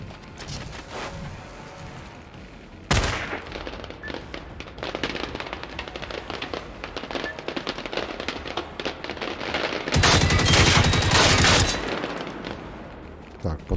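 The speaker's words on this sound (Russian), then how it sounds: "Калаш укладывает хорошо. Особенно с бронебойными патронами." An AK Kalashnikov rifle fires armor-piercing rounds in Generation Zero, with loud sharp shots and rapid bursts over several seconds, including a dense sustained burst near the end.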